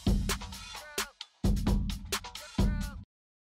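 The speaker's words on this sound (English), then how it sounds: "We just have a little drum beat, sounds like this." Short drum beat clip looping in Ableton Live, with punchy kicks, snappy hits and rapid hi-hats in a steady groove that repeats in bars. It plays loud and close with no talk, then stops dead.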